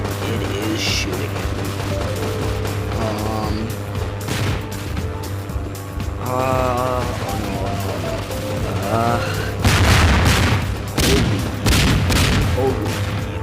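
An Apache helicopter opens fire in a video game, bursts of rapid gunfire and heavy booms rolling over a constant engine drone, with a person's voice reacting between the volleys.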